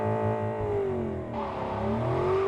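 Car engine accelerating in Cyberpunk 2077, driven with a steering wheel setup: a steady, loud revving drone with rising and falling pitch, alone without talk.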